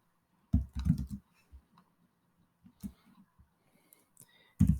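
Quick, light clicks of typing on a computer keyboard come in short bursts with pauses, close and fairly quiet.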